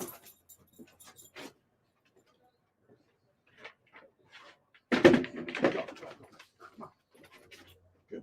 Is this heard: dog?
yes